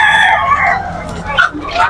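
A five-month-old stag rooster crows loudly and close at a Malolos poultry market, one drawn-out call followed by shorter clucking bursts, with market noise underneath.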